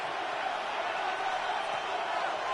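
Broad, steady roar of a stadium crowd cheering during a video game football match on third down, a dense continuous wash of noise with no single voices standing out.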